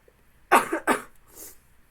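Two sharp, close coughs in quick succession, followed by a softer breathy exhale.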